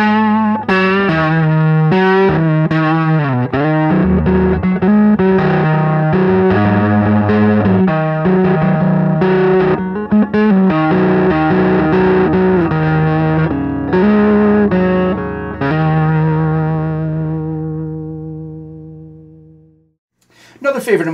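Electric guitar played with the fingers through a Full Custom Music Barnacle Fuzz pedal, with bass up and volume high, gives a thick, loud, sustained fuzzy tone that rings steadily before fading into silence at the end.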